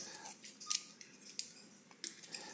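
An RJ45 network cable being cut cleanly with scissors: several short, sharp snips and clicks spaced irregularly over quiet background, close and fairly faint.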